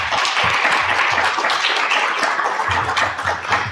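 Audience applause at the Arizona Poetry Out Loud state finals, a dense, steady wash of many hands clapping at close range, holding loud and even for the whole stretch.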